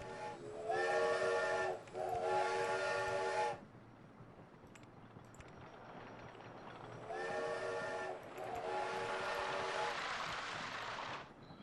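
In a video game, a miniature railway steam train blows two long, loud whistle blasts close together, then a pause, then a longer, slightly softer blast, all over a constant low rumble and with no talking.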